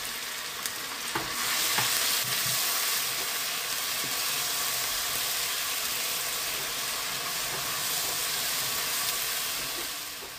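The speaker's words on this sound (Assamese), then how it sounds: "আৰু অকণ টাইম ভাজি ল'ম।" Onions with ginger-garlic paste fry in a pan for a home-style paneer masala, giving a steady, close sizzle with faint stirring that runs without pause and with no talking.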